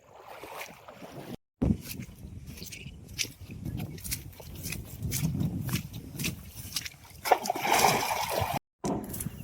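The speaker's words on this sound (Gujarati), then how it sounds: "આપણે ખાબોશીમાં ધપકા લગાડી દીધા" People splashing and jumping into a farm pond, with bursts of water splashing and sloshing over wind noise on the microphone, brief dropouts, and no clear talking.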